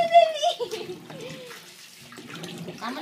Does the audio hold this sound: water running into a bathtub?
yes